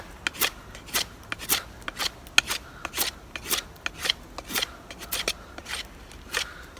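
An ESEE 5 knife cuts into wood, steering around a knot, producing a steady run of rhythmic, close scraping and shaving strokes, roughly two per second, with no talking.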